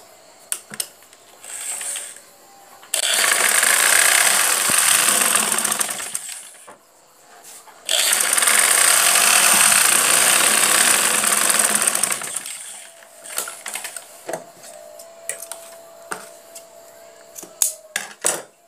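A sewing machine stitching a design on a kameez sleeve, running in two long continuous bursts of rapid mechanical whirring, separated and followed by quieter handling clicks and rustles.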